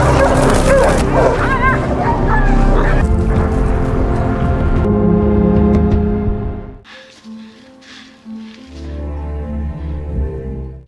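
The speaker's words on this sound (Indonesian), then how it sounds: "suara kawanan Doggy tiba-tiba terdengar" Pack of dogs in a film barking and yipping together, loud and dense with a whimpering edge, then fading to a quieter stretch before more barking returns under a musical drone.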